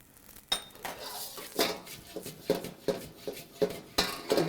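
Golden fried rice with sesame oil and green onions is tossed in a wok, a metal spatula scraping and clanking against the pan in a fast, regular rhythm over a low sizzle.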